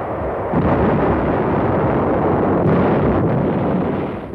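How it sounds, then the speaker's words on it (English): Shore battery artillery fire and naval bombardment during the Inchon landing in Korea, heard as a dense, continuous roar of booming blasts and rumbling detonations. The barrage stays loud and sustained throughout, without distinct pauses. "Every shore battery fired and was pinpointed for later destruction by air and naval bombardment"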